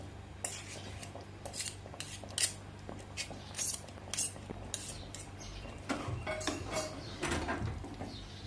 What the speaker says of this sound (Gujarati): હવે સારી રીતના આપણે મિક્સ કરી લેશું બધા મસાલા એ રીતે આપણે ખીચડીને